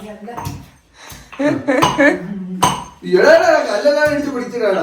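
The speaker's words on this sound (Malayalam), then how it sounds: "ആദിയാണ് ഇഞ്ചിയും വെളുത്തുള്ളിയും കൂടെ ചതച്ച് തരുന്നത്." Ginger and garlic being crushed together with a stone pestle, giving a run of sharp clinking knocks, mid-close and fairly loud, interleaved with children's and adults' chatter.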